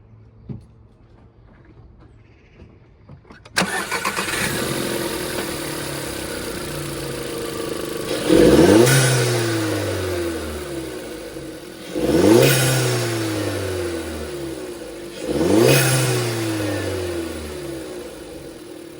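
A Golf Mk6 1.4 TSI engine with a GFB DV+ diverter valve cranks and starts, settles into a steady idle, then revs up three times with rising and falling roars, each rev clearly separated.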